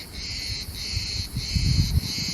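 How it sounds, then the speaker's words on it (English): Steady, shrill buzzing of cicadas at a beach in Greece in continuous pulsing waves, with low rumbling wind noise underneath. "enjoy this beach, enjoy the cicadas"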